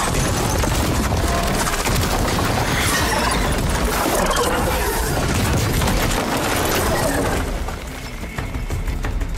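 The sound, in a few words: explosion in video game Horizon Forbidden West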